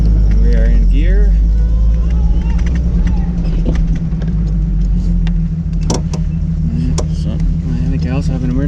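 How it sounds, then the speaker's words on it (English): A Jeep running in gear while driving on a backcountry route, giving a steady, loud low engine drone and rumble throughout, with cabin noise and brief voices over it. "We have the Jeep running."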